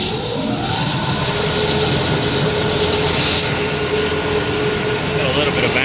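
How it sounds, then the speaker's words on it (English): Blower on a Trane steam-heated make-up air unit running as it starts up, a steady loud mechanical roar with a faint whine and rumble filling the space without a break. "then we'll get this blower turned on"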